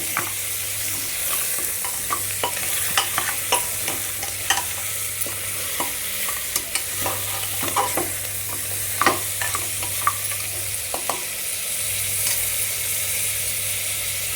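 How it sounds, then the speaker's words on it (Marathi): Mutton trotters sizzle steadily in a pan while a utensil stirs and scrapes them, with frequent clinks and scrapes over a continuous frying hiss. "त्यामध्ये पाय टाकूया आता चांगलं परतून घेऊया"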